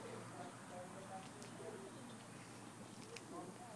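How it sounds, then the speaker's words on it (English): Pigeons cooing in a flock, faint low warbling coos recurring under steady outdoor background noise with a few brief higher chirps. "Oh, pigeons everywhere."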